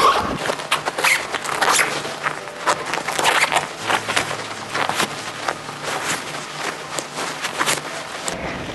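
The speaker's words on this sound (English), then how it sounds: "And for the linen part, with a hidden zippers on the bottom." A hidden zipper on the bottom of a linen pet bed cover is pulled, giving a close, continuous run of dry, scratchy rasping with rapid small clicks and rustles for several seconds.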